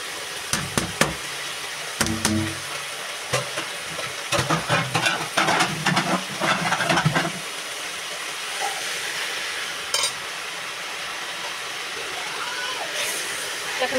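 Red amaranth greens hit a hot pan with a burst of sharp crackling and hissing, then settle into a steady soft steaming sizzle, close by and loud at first.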